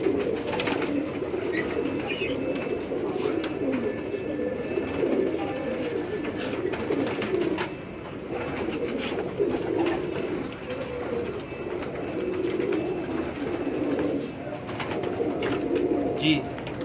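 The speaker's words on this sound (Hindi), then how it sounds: "तो ये जो है वो इनका एक पट्टी वाला नर कबूतर है।" Striped pigeons coo repeatedly in low, rolling phrases, close and fairly loud, with someone speaking intermittently over the birds.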